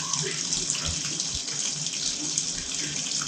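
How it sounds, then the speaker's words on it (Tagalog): A Fujidenzo JWA 6000 VT washing machine fills with water, giving a steady, close rushing hiss of inflow that runs unbroken and without speech from start to finish. "So, mag-add siya ng tubig."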